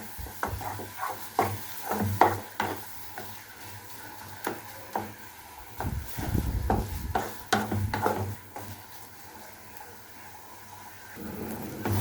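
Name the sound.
papaya mash frying in a pan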